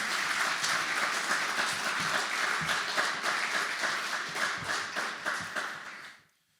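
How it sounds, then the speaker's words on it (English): An audience at a military retirement ceremony breaks into a round of applause, dense steady clapping from a room full of people that holds for about six seconds before trailing off quickly. "I think that's worth a round of applause as well."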